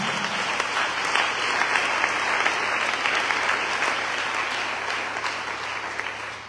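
A church congregation applauding and cheering to welcome a presence, with steady, dense clapping from many hands that fills the room and carries a faint crowd murmur and occasional whoops beneath it.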